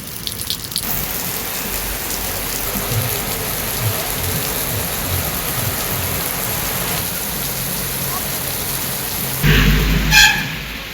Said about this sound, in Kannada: ಶಿವಮೊಗ್ಗ ಜಿಲ್ಲೆಯ ತೀರ್ಥಹಳ್ಳಿ ಭಾಗದಲ್ಲಿ ಧಾರಾಕಾರ ಮಳೆಯಾಗ್ತಿದೆ.